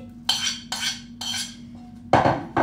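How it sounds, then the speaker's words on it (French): Broccoli florets tipped from a container into a serving dish during holiday meal prep, giving several separate clattering, rattling bursts at close range with short pauses between them and a final louder tumble. "Là maintenant, je vais venir verser mes brocolis."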